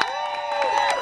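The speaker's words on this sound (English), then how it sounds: "Big applause for Lori." Brief burst of audience applause and cheering at an interview event, a dense steady wash of clapping with a sustained tonal hum running through it.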